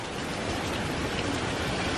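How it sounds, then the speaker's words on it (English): Steady heavy rain pours down in a Pennsylvania town, a dense, continuous hiss of water on surfaces with no voices. "It's raining. It's pouring, y'all."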